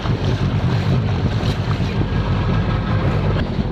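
A 1996 Sea-Doo XP personal watercraft engine idles on the water, a loud, steady low rumble with wind and water noise over it, with no pauses.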